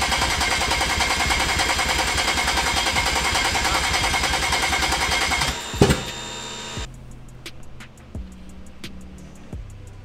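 A BMW N55 engine in a 335i, running with no exhaust fitted, roars very loudly and steadily for about six seconds, then cuts off abruptly, leaving faint ticks and light knocks.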